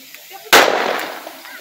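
A single sharp, loud firecracker bang near a São João bonfire festival, bursting suddenly and ringing out with a decaying echo.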